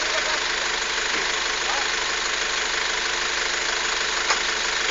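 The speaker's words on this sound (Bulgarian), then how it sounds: "Ицо, дръж го за газа." An engine runs at a steady, droning idle while the throttle is held, loud and constant throughout with slight knocking, and no talk over it.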